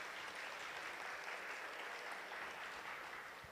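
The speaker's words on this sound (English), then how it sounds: "Let's give a big round of applause" Steady, dense applause from a temple audience welcoming new devotees, a continuous wash of clapping that holds level for several seconds and eases slightly at the close.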